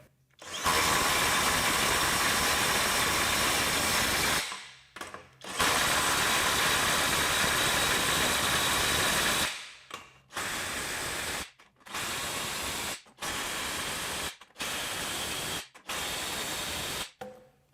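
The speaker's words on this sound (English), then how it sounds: "we're going to tighten each one of these nuts for 5 seconds once it starts impacting" A FLEX 24V quick eject impact driver hammers away as it tightens a series of nuts, two long bursts of about four seconds followed by six shorter, evenly spaced bursts with brief pauses between, loud and close with no talk.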